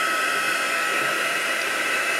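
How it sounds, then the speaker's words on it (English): A handheld heat tool blows steadily and loudly to dry distress paint in a mixed media craft project, a constant broadband whoosh with no pauses and no talk. "let's use our heat tool just to dry that off before the next stage."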